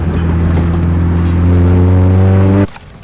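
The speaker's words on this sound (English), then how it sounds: "I don't think anybody can hear you because your car is too loud." A loud Mazda Miata with a freshly replaced water pump and timing belt drones close by at steady revs, its engine tone climbing slightly before cutting off abruptly near the end.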